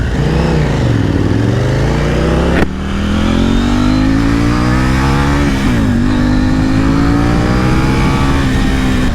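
Motorcycle engine revving hard and continuously up close, pitch climbing and dropping through several swells, with a sharp pop or crackle of exhaust breaking in partway through.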